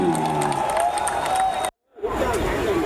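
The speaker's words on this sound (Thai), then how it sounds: "ขอเสียงปรบมืออีกครั้งหนึ่งครับ" A large crowd at a Thai rocket festival applauds and cheers, with broad, steady noise and babble. The sound cuts out briefly near the middle, then the crowd roar returns.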